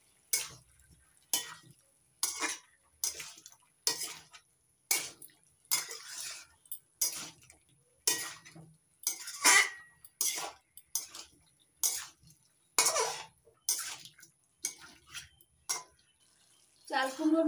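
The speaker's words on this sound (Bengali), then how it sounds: "এবার নাড়াচাড়া করে মিশিয়ে নিচ্ছি" A spoon scrapes and knocks rhythmically against a pan while ash gourd curry is stirred, about a dozen evenly spaced strokes, close and moderately quiet.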